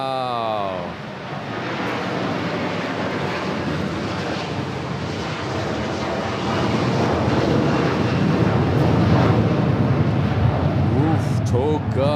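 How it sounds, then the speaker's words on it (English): Jet engines of an airliner spooling up to full thrust during a go-around at Manila Airport, a loud sustained roar that builds and swells, with a voice reacting over it. "Hear those engines."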